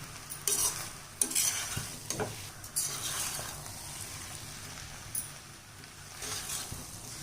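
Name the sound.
stirring onions and tamarind sautéing in a pan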